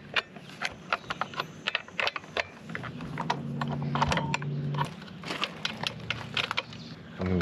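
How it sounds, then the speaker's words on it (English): Multi-tool loosening the two large nuts on a chainsaw bar: close, uneven metallic clicks, ratcheting taps and scraping, with a faint low hum in the middle. "So what I'm gonna do first is I'm going to loosen up these two large nuts"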